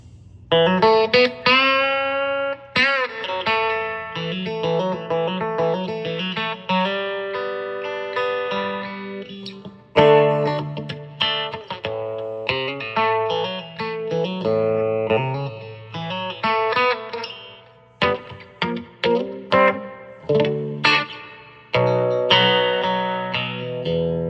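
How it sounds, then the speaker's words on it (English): Electric guitar playing melodic lines and chords through a Fender Whalen phaser pedal in sweet spot mode, sweeping, swirling tone, loud and alone with no talking. "This is the Fender Whalen phaser."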